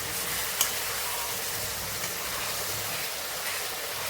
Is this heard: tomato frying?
yes